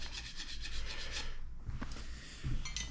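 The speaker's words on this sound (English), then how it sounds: "brushes for cleaning the steer tubes. Just get in there and give it a quick scrub." A brush scrubbing inside a bicycle steer tube during a Specialized Stumpjumper build, a continuous close, rough rubbing scrape with a few small knocks and no talk.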